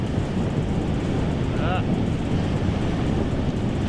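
Ocean surf washing up over a coquina rock shore in Florida at dusk, a steady roar of churning water and wind buffeting the microphone, with no single wave standing out clearly.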